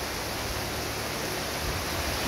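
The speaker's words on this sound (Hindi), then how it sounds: "और ये देखिए बारिश शुरू हो गई है" Steady rain just beginning at Patong Beach in Phuket makes a dense, even hiss that stays constant and broadband throughout, with no voices over it.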